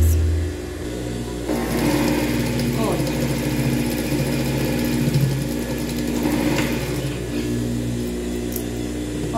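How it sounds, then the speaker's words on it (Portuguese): Sewing machine running a finishing seam on a child's envelope dress with a fully lined bodice, a steady close mechanical whir with a rapid needle rhythm that continues under a woman's speech. "aqui a gente vai passar uma costurinha de acabamento"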